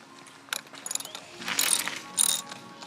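A suspension volume spacer cap being turned clockwise by hand, giving a series of quick, close ratcheting clicks in uneven bursts with short pauses between them.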